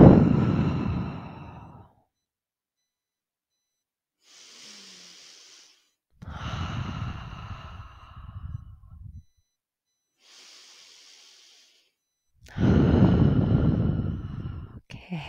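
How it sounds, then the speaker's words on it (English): Three deep, slow breaths are drawn in and pushed out during a children's yoga pose, each loud breathy exhale rushing close to the microphone with quieter inhales and near-silent pauses in between. "And as you pose, take your three big breaths."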